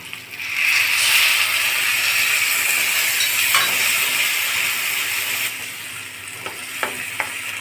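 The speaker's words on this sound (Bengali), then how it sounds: "এখন দিয়ে দিব জল।" Water hits a hot pan of pumpkin, potatoes and spices, setting off a loud, steady sizzle and steamy hiss that slowly eases, followed by a few light stirring knocks near the end.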